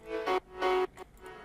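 A piano plays a middle-register melody, two sustained notes followed by a few softer, shorter ones, quiet and alone over a brief phrase.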